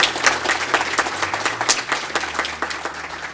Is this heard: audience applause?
yes